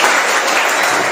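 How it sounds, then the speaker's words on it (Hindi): Students in a classroom clap together in a short, dense burst of applause that lasts about a second, close and loud, with no talking. "एक बार तालियां हो जाएंगी दूसरों के लिए।"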